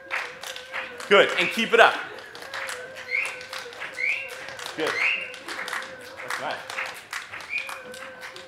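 Audience members clap a repeating rhythm, quick handclaps recurring steadily through the stretch, close and moderately loud, while someone speaks over them.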